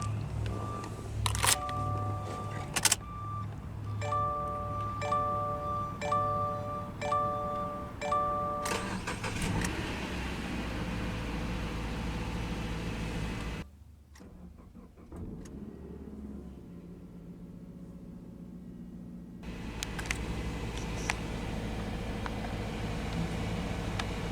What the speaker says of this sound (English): let's go ahead and start up that flat four